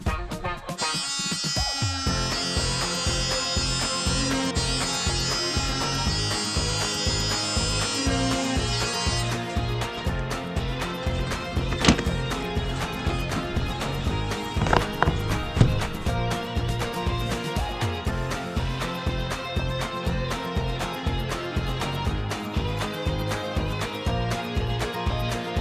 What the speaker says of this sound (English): Multi-tool time.